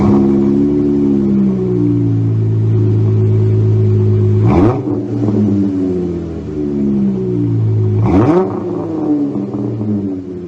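The engine of a 2017 Dodge Challenger SXT with single chamber mufflers, an X-pipe, stock catalytic converters and no rear mufflers idles with a deep burble and is revved sharply twice, each blip rising and falling away, loud and close.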